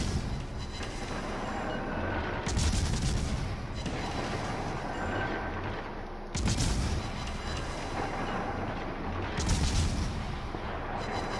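Naval guns of a Gearing destroyer in World of Warships fire in rapid salvos, three loud booming volleys roughly every four seconds over a steady rumbling battle background.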